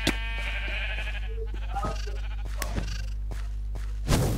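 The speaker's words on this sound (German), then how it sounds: "Hey, ich habe 2 blaue Schafe." Sheep bleat in the Minecraft video game, with a wavering bleat at the start amid scattered game clicks and thumps, moderately loud, followed by a brief noisy burst near the end.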